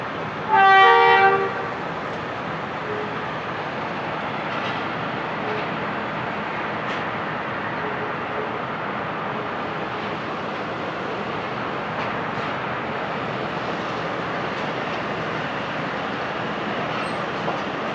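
The 39UP passenger train departs Lahore for Rawalpindi, opening with a loud horn toot, then a steady rolling rumble of wheels and carriages that continues for the rest of the stretch, with no talk.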